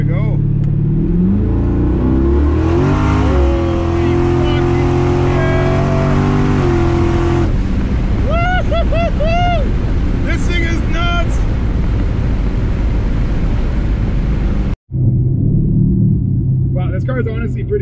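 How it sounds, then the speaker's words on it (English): A twin turbo Dodge Challenger engine with a broken wastegate roars loudly from inside the cabin, with deep rumbling revs and whistling turbo sounds, mixed with talk. "It's a little loud inside because he's currently got a broken wastegate at the moment"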